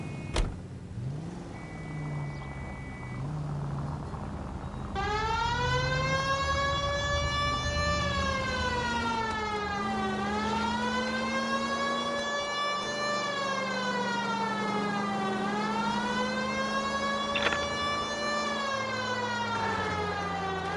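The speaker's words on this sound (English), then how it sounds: "You hear the sirens?" A video game police siren wails in long rising and falling sweeps over a low engine drone, sustained and fairly close, with no talking.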